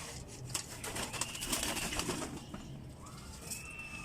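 A teddy pigeon coos softly against a noisy outdoor background, with faint rustling and distant bird calls. No one speaks.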